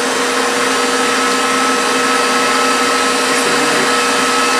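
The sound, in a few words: electric mixer beating gingerbread cheesecake batter on high speed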